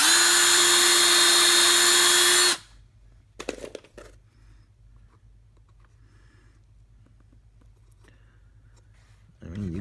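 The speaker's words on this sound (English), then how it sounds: "Just drill a pilot hole." A battery power drill whines loud and steady for about two seconds while boring a pilot hole in thin, untreated wood, then cuts off abruptly, leaving near silence with a few faint clicks and handling knocks.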